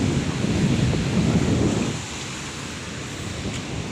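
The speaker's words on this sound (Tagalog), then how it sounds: "So dahil malalaki pa rin talaga ang alon." Large ocean waves surge against the Palawan shore during rough seas, a loud broadband roar that swells through the first two seconds, then settles into a lower, steady wash of surf.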